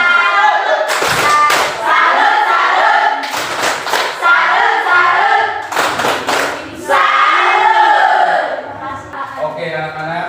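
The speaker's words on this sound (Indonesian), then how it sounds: "Mari kita berikan tepuk tangan." Students in a classroom break into loud bursts of clapping in a few rhythmic rounds, mixed with shouting voices that rise between and over the claps.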